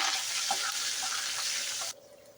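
Mustard seeds, cumin, urad dal, green chillies and curry leaves crackle in hot oil for a paneer masala curry, a bright, steady close sizzle that cuts off abruptly near the end, with no talking.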